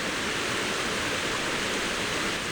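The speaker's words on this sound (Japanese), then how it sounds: "この川の音ずっと聞いてられます。" A river rushes steadily near a mountain pass in Nara, a close, unbroken wash of flowing water with no voices.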